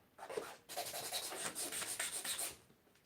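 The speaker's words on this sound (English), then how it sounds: "Rest of it can be refined with a little bit of sanding" Hand sanding of a small beech wood dollhouse miniature box, a close rasping rub in quick back-and-forth strokes, one short pass followed by a longer steady run, with no talking.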